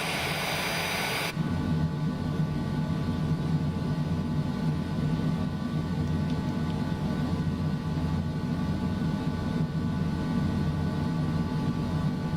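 Aircraft engine from a TBM930 or similar plane in Microsoft Flight Simulator 2020, a steady, loud, droning roar with a tonal whine that jumps up after a brief opening burst and then holds level throughout, with no talk.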